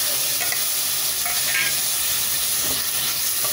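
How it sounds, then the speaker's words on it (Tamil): Mutton pieces and chopped tomato sautéing in a pan for mutton curry make a constant, fairly loud frying hiss with faint scrapes of stirring underneath. "கொஞ்சம் மட்டனையும் தக்காளியும் கொஞ்சம் நேரம் வதக்கிக்கலாம்."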